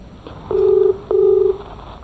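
A phone placing a quick missed call gives two steady electronic beeps, each about half a second long with a short gap between them, clear over a quiet background.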